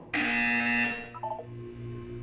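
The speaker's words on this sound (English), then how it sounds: "When you hear the buzzer, look up at the ceiling." A loud electronic buzzer from the Portal 2 video game sounds for just under a second, then a few quick softer tones follow and a low hum lingers underneath.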